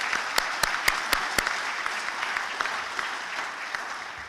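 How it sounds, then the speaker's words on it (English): An audience at a military change of command ceremony applauds steadily. The wash of clapping is dense and even, with a few louder, sharper claps standing out near the start. "Let's give them a round of applause."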